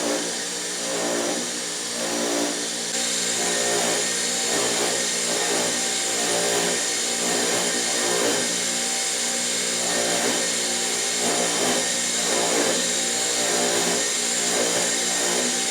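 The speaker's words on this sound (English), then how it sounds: "we're running through a really nice, soft, buff Scotch-Brite, just to take the fire scale off it" Metal finger-pick blanks are buffed on a soft Scotch-Brite wheel to strip fire scale, making a loud, steady whirring grind that runs without pause for the whole stretch, with no voices.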